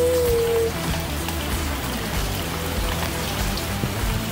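Steady rain falls, making an even, continuous hiss of drops on surfaces. A brief tonal hum sounds at the start, and no one talks.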